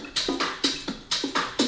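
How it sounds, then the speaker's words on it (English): Main drum loop of a Latin house track, with a steady pattern of sharp snappy hits and a low thump recurring in a driving groove, clear and up front with no voices. "All right, then the main drums sound like this."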